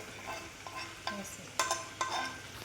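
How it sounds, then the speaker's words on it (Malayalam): Beef fry with coconut stirred in a hot pan: a quiet, steady sizzle with a few scraping stirs at close range and no talking. "നമുക്ക് ഇളക്കി കൊടുക്കാം"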